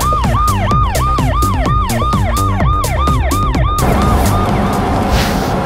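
A loud police siren on the Carbon Motors E7 purpose-built police cruiser cycles through a rapid, repeating wail, then shifts into a harsher, busier tone for the last couple of seconds, with nothing else heard.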